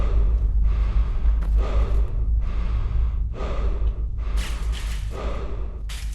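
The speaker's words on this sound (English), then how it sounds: "the heavy breathing is, I think, added by one of the things that I'm running" Heavy, rhythmic breathing from a Fallout 4 mod ambience, with about five slow inhale-exhale cycles repeating close and loud over a low rumbling drone, with no talk.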